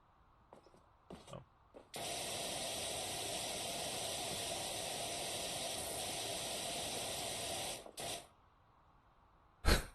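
A pressure washer in PowerWash Simulator sprays in one long, steady, loud hiss for about six seconds, framed by a few short bursts and clicks before and after.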